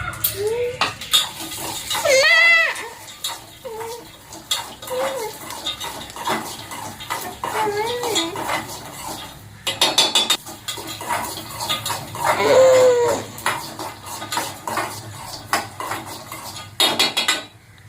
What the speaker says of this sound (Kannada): ಈಗ ನಾನು ಪುಟಾಣಿ ಮತ್ತು ಶೇಂಗಾನ ಒಟ್ಟಿಗೆ ಹಾಕಿಬಿಟ್ಟು ಫ್ರೈ ಮಾಡ್ತಾಯಿದ್ದೀನಿ